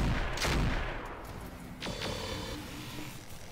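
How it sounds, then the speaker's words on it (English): Weapons fire in a mech combat video game, with medium lasers among the guns: a loud burst of shots at the start, then a second volley with tonal laser-like whines, fairly close, with no talk. "Man, those medium lasers are hitting fairly well."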